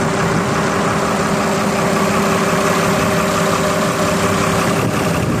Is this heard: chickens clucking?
no